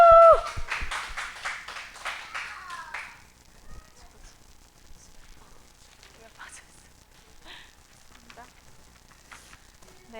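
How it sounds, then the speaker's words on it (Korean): A small congregation at a Korean church's infant-department worship service claps in soft, scattered applause after a brief vocal cheer. The clapping sits at a low level, loosely textured, continuing for several seconds. "다시 한번 뜨거운 박수"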